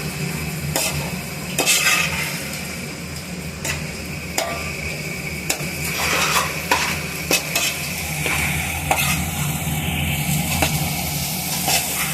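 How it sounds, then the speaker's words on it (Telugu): Prawns being stirred in a frying pan with spiced masala, a loud continuous sizzle broken by frequent clattering spatula strokes against the pan, close and busy, with no speech. "రొయ్యలు కొంచెం మిక్స్ చేయాలి"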